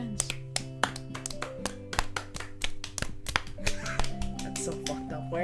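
Hands clap in a run of sharp, uneven claps, several people clapping together with taps between, in the visual novel game Katawa Shoujo.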